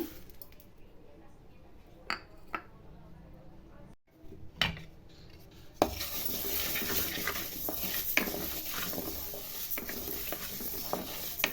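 Mung dal dry roasting in a pan, stirred with a utensil: sparse scrapes and clinks at first, then a denser, louder rustling hiss with scattered taps as the stirring continues.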